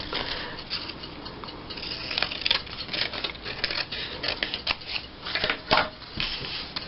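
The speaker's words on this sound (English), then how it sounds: "So I'm gonna have to use my scissors." Scissors snip around a handmade Christmas tree gift tag, giving a steady run of close, crisp paper-cutting crunches and rustles with no talking.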